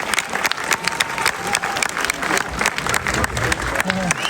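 An audience on stage-event seating gives loud, dense applause to welcome a guest, steady clapping filling the room with a faint crowd murmur and some talk beneath.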